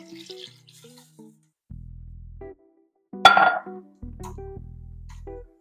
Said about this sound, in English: Let's add some juice to it.